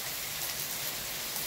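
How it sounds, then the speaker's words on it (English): Hail and rain pelt down on a residential street while runoff water flows along it, a steady dense hiss of drops with no gaps or talk. "And we have hail."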